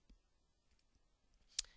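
A single crisp computer mouse click, close and clear, near the end of an otherwise quiet moment with faint background ticks.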